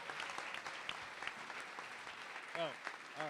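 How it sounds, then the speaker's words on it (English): Audience at an awards ceremony claps after an election result is celebrated, a steady patter of hands at moderate distance with a voice breaking in briefly near the end. "give yourselves a round of applause for an incredible election in Congress"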